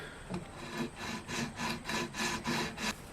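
Rhythmic scraping strokes of sandpaper smoothing fret marker dots on a wooden guitar fretboard, about a dozen even back-and-forth passes, close and steady with no talking.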